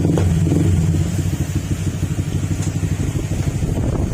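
A Honda Click 125 scooter engine idling after a top overhaul, a steady, close, even putter with a light mechanical clatter.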